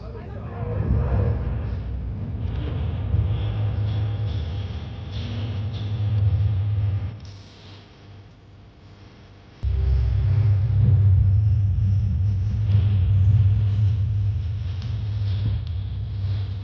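A loud, deep roar of eight jet engines on afterburner thundering overhead at a Blue Angels air show, holding steady, dipping briefly, then surging back to full strength with heavy low rumble.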